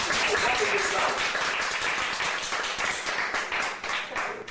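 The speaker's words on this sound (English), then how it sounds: "give her another round of applause" Audience members at a community kitchen event clap in a loud, sustained round of applause, close and dense, gradually thinning toward the end with some voices underneath.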